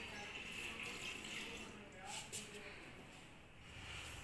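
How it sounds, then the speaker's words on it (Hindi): Water pours into a laboratory water bath with a heating rod, a soft steady splashing rush heard faintly beneath a person talking. "इसमें पानी भरना होता है"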